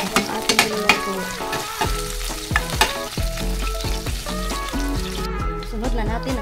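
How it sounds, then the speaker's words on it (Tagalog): Garlic sautéing in a pan with vegetables and dried shrimp nearby: a steady, loud sizzle with clinks and scrapes of stirring, while a voice talks over it. "Haluin lang hanggang sa ma-brown ang ating bawang para mabango ang ating niluluto."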